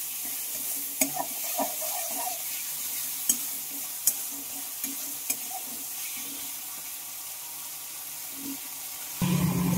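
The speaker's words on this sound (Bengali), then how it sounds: "এখন আমি খুব ভালোভাবে মশলাটাকে কষিয়ে নিচ্ছি বন্ধুরা।" Ground paste of dried chilli and garlic sautés in a pan for banana flower ghonto, with a steady low sizzle and repeated sharp scraping strokes of a stirring spoon, close up, ending with a brief louder clatter.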